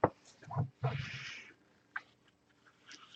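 A house cat meows indoors, a few short vocal calls near the start with fainter ones following, close and moderately loud in a quiet room.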